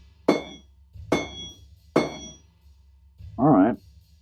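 Three sharp metallic hammer blows strike hot metal while forging a knife, ringing out at a steady pace, each with a bright ringing decay, followed by a brief voice.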